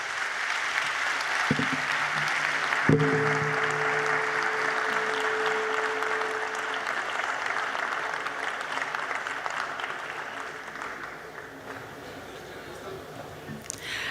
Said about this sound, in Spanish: Ha sido un fuerte aplauso para Alberto.